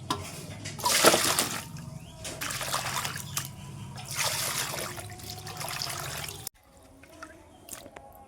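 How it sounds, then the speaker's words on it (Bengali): Water drains and trickles from freshly washed mango pieces being lifted out, a close splashing and dribbling that comes in several bursts before dropping to a faint quiet near the end. "জলটা ঝরিয়ে তুলে নিচ্ছি"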